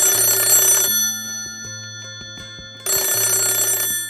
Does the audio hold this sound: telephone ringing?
yes